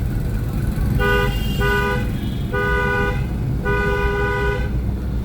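A car horn honks four times in uneven bursts, the last one longest, over steady road and engine noise, while overtaking a rickshaw.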